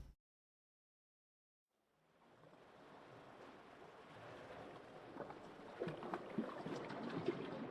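Flowing water in a video game set in a dug tunnel: after near silence, a soft wash of moving water fades in and builds into a steady, faintly rushing flow with scattered splashy detail, no speech.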